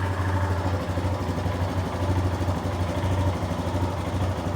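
A Royal Enfield Himalayan 411 motorcycle idles close by, its single-cylinder engine giving a steady, even low thump and chug that holds without revving, alone and loud.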